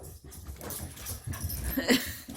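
Dogs, including a rat terrier, whimpering and whining indoors, soft high cries and snuffles close by, fairly faint.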